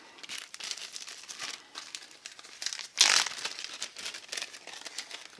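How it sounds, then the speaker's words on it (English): A plastic snack bag crinkles and rustles close by during tomato and pepper planting, soft scattered crackles with one louder crunch midway, no voices. "We'll take our snack bag."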